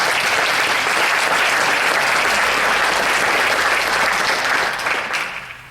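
Sustained applause from an audience at a school district state-of-the-district address, a dense, steady clatter of many hands clapping that holds evenly for several seconds before tapering off at the end.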